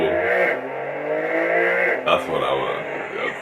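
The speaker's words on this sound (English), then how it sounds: "Is there a better sounding twin turbo 6-cylinder engine on the market right now?" Porsche 911 twin-turbo six-cylinder engine under way, a steady rising drone that drops off abruptly near the end with a crackle on overrun, heard from inside the car as people talk over it.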